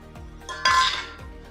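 A cooking pot lid lifts off with a short metallic clink and scrape, close and fairly loud, in a kitchen where carrot pola, a Kerala carrot pudding, is being steamed.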